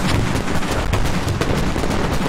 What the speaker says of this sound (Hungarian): baráti tűz jön ránk